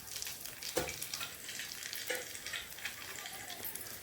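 Steady crackling sizzle of a radish and peanut stir-fry in hot oil, continuous and close, with a few louder spits and stirring clatters.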